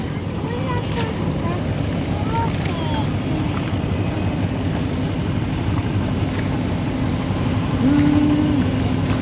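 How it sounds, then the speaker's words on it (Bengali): A trawler boat ride on the Buriganga River near Sadarghat, with a steady low engine drone and water wash throughout, plus wind buffeting the microphone; a brief tonal hum or horn rises near the end. "এই যে সাবিহাকে নিয়ে সাবিহার বাবাকে নিয়ে আমরা নৌকা ভ্রমণ করতেছি এটা হয়েছে বুড়িগঙ্গা নদী"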